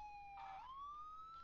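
An ambulance siren in the Ambulance Doctor Simulator 3D mobile game holds a steady tone that dips and then climbs into a higher sustained pitch, fairly faint, with a brief burst of noise partway through.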